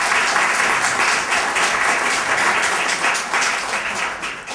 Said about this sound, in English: give you a round of applause for your amazing poetry